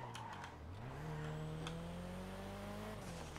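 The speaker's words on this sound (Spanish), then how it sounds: "cómo corre este coche" A fast car in a Marbella Vice driving video game: a sustained engine drone that rises in pitch as it accelerates, then holds a steady high rev, loud and close with no talk.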